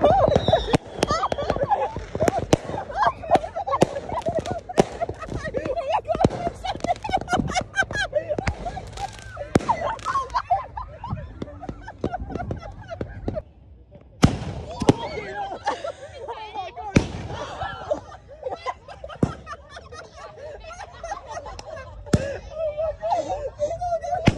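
Beach fireworks show in Koh Lanta, Thailand, with continuous crackling and popping bursts, some booming explosions, layered under excited voices, cheering and laughter throughout.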